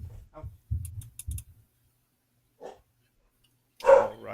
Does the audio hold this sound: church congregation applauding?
no